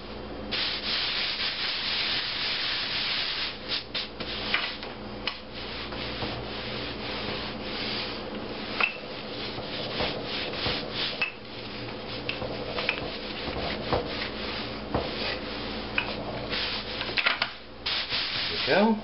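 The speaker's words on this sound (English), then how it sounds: "I'm going to get another pinch of flour on this, rub it over it." Hands rub flour over bread dough on a work surface, a close, continuous dry scrubbing and rustling with uneven strokes and small knocks for nearly twenty seconds, without talk.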